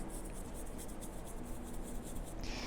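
Soft continuous scratching of a paintbrush loaded with brown paint stroking across a stencil on EVA foam, close and steady with no talking.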